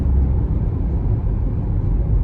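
A steady low rumble of road traffic rolling past, engines droning continuously without horns or distinct individual vehicles.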